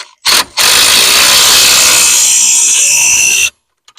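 A power tool tightens a 3/4 nut on a lift kit being installed on an EZGO TXT golf cart. A short, loud burst is followed by about three seconds of steady, close whirring, then it stops abruptly.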